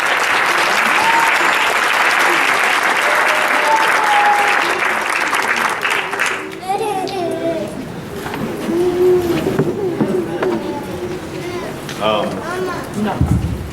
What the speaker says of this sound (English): Please, again, give a round of applause for Todd Nicola.